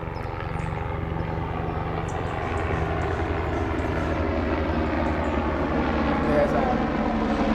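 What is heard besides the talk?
medical helicopter taking off and flying away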